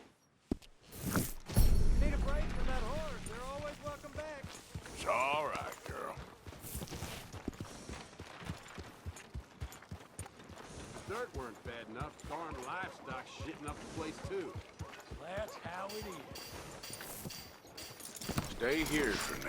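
In Red Dead Redemption 2, horse hooves clip-clop in a steady walking rhythm, close and fairly crisp. Voices speak over the hoofbeats at times.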